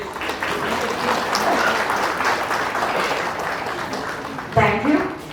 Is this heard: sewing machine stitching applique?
no